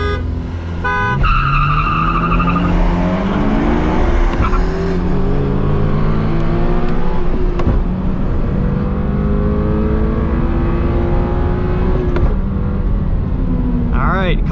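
A 2022 Subaru BRZ or 2022 BMW 230i revs hard from a launch-control start and accelerates steadily, rising through gears with a loud, sustained roar and brief shifts, close by.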